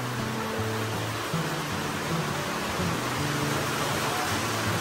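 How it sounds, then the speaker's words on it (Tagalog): Heavy rain pours in a steady, dense wash of noise close by. A low tonal hum runs underneath, and no voices are heard. "Sobrang ulan po, mga kalingap."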